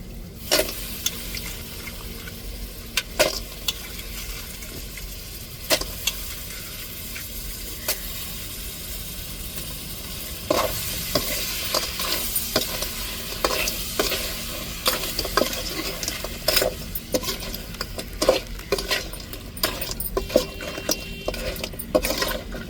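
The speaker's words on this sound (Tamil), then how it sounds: "இப்போ நண்டை சேர்த்துக்கிறோம்." Crab frying in a pan for a crab gravy, stirred steadily: a continuous sizzle runs throughout, broken by repeated scraping and clattering strokes that grow busier in the second half, with no talking.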